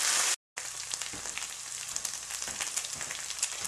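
Ground meat fries on high heat in a pan as spring roll filling, a steady bright sizzle with small crackles and pops, broken by a brief dropout near the start.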